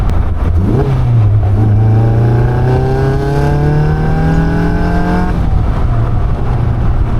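A Caterham 340S sports car with a front engine revs hard while driving, climbing steadily in pitch through a long pull before easing off, loud and close with no talking.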